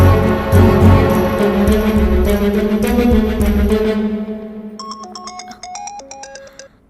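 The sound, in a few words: telephone ringing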